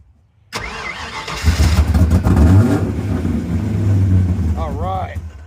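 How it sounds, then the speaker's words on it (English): A car parked since 1999 cranking and catching, then revving loudly and unevenly up close as throttle is pumped, settling to a rough idle with a squealing whine near the end. "you're gonna have to give it a little throttle once it tries to start"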